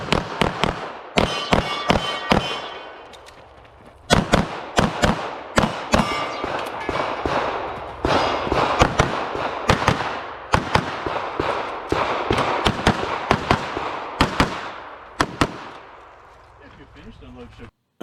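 Rapid pistol gunshots during a USPSA practical shooting stage run, loud and close, fired in quick strings and pairs with short pauses between bursts, ringing out across an outdoor range for about eighteen seconds.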